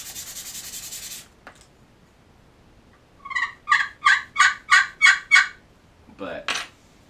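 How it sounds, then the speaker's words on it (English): A Hunter Specialties glass turkey call is played with a carbon striker, giving a series of about seven sharp, close yelps in a steady rhythm, with scratchy friction sounds before and after. "Same thing with the glass call, and this one's from Hunter Specialties. But run a carbon striker on it."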